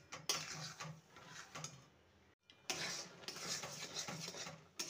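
Chhena mixture for monda sweet stirred in a pan over low to medium heat, with steady scraping and clinking of a utensil against the metal, pausing briefly midway before continuing.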